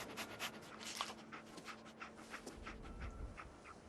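A dog panting in the Fallout 4 video game, quick faint breaths repeating steadily over a low background hum, with no talking.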